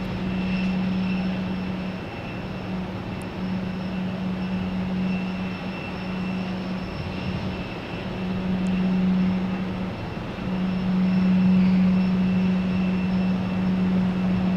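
United Airlines jet lining up on runway 22R at Boston Logan, its engines holding a steady, loud hum and whine that swells and eases over several seconds.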